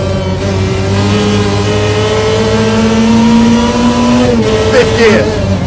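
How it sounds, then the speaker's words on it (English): A rally car engine revs hard and loud, a steady high-pitched drone climbing in pitch through the gears, with a brief shift and renewed acceleration near the end. "This car is noisy."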